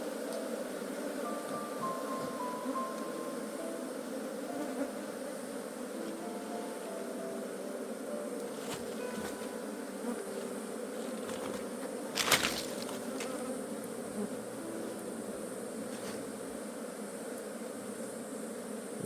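A steady, dense buzzing hum of a small honeybee colony fills the air continuously, close by, with a brief louder knock partway through.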